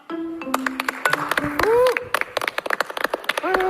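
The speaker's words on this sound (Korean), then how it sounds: "큰 박수 부탁드립니다" An audience bursts into applause welcoming a contestant onto a Korean television singing stage, a dense run of claps mixed with cheers and a host's voice over it.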